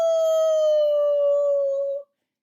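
A person's voice imitates a dog howling: one sustained, steady, tonal howl lasting about two seconds, loud and close, then stopping abruptly.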